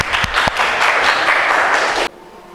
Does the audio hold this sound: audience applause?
yes